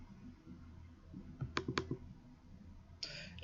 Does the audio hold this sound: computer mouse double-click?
yes